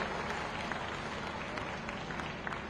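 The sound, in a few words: crowd applause welcoming a guest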